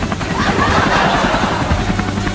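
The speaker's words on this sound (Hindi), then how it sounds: "हम इतने बड़े हेलीकॉप्टर से उड़ रहे हैं।" A large cartoon helicopter flies overhead with a steady, continuous rotor drone and dense broadband engine noise, loud and even throughout with no pause.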